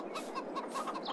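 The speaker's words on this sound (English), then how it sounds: "We have now got a buttload of chickens" Several chickens cluck in a farm game, a quick run of short, bright clucks in close succession with no talk over them.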